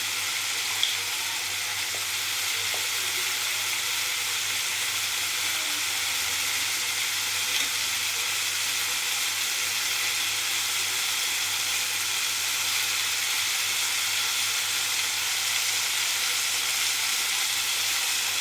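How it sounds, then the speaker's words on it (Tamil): Okra sautéing in a pan for a tamarind curry gives off a steady, even sizzle throughout, close and moderately loud with no voices over it. "வெண்டைக்காவை போட்டு வணக்கிறோன்னா நல்லா வாசமாக இருக்கும்."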